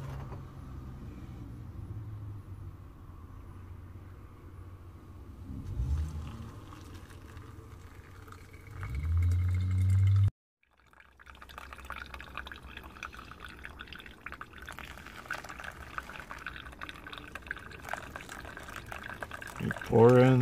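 Hot water pours and trickles steadily into coffee inside a van, pausing briefly midway before resuming, with low background rumble and soft handling noises.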